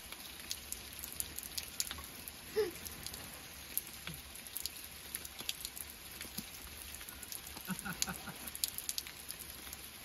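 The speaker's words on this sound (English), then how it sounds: "It's just rain." Soft, steady patter of rain with scattered drips and ticks on a surface, fairly quiet, with one faint brief squeak partway through.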